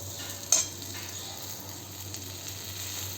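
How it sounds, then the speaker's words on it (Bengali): Spices fry with turmeric in a pan over a low-to-medium gas flame. A soft, steady sizzle hisses throughout, with one brief clink of a utensil near the start. "এটা একটু ভাজা হোক।"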